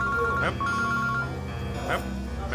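A mobile phone rings in an indoor drama scene, a tonal electronic ringtone repeating in short bursts over a steady background, with no one talking.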